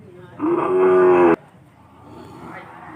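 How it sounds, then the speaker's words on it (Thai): A male fattened water buffalo at a busy livestock market in Thailand gives one loud, drawn-out low moo lasting about a second, followed by murmuring crowd background. "ควายขุนตัวผู้นะครับ"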